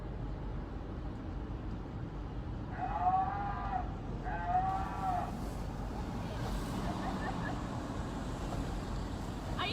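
A recorded cow moo plays twice from a novelty button at a street protest where police and rioters clash. The moos are moderately loud over constant crowd and traffic noise, and fainter fragments follow.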